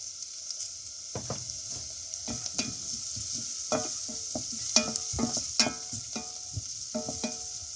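Onion masala sizzles softly in a pan with turmeric, while a spoon stirs it in a steady series of scraping, tapping strokes over a constant frying hiss.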